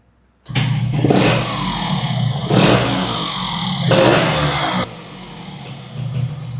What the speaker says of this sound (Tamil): வெஹிக்கிள் ஸ்டார்ட் பண்ணி காமிக்கிறேன். எக்ஸாஸ்ட் நோட் கேளுங்க.